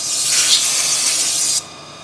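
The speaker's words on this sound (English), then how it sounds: "Just a little bit of WD-40." A short, loud hiss of WD-40 lubricant sprayed from an aerosol can in a workshop, one continuous close burst lasting about a second and a half before cutting off sharply.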